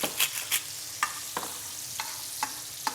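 Noodles tossed in a hot wok with oil give a quiet background sizzle broken by several sharp scraping strokes of stirring, spaced irregularly.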